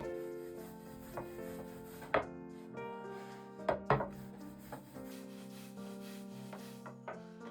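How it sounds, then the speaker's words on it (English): A wooden rolling pin rubs and rolls over floured udon dough on a wooden board, a soft continuous scraping with a few sharp knocks of the pin against the wood. "I spread the dough with a rolling pin."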